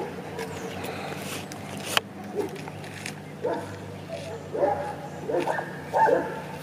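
A small dog barks and yips in short bursts at moderate distance, repeated several times over a steady background hum, with faint voices nearby.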